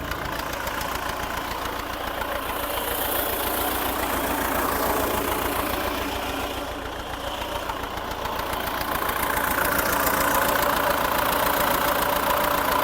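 A T-40 tractor engine idles steadily with a rough, knocking mechanical chug that dips briefly midway and then grows slightly louder; the throttle is worked by hand; no voices.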